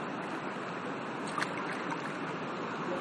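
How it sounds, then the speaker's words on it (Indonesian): Steady rushing river water where two rivers meet during body rafting in Gunung Kidul, Yogyakarta: a continuous broad roar of flowing water, close and constant throughout. "Pertemuan dua sungai."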